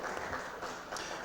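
A room full of people at a St. Louis Board of Aldermen meeting in session claps for a returning guest, producing a faint, dense and even wash of applause that carries on unbroken throughout.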